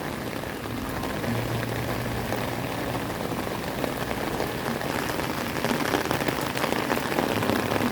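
Heavy typhoon rain pours down steadily, a dense continuous hiss of drops on surfaces that grows slightly louder toward the end, with no talking.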